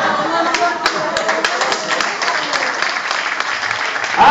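A club audience applauds comedians on stage, sharp, closely spaced claps forming a lively round with distinct individual hand strikes near the front, steady throughout and swelling slightly at the end.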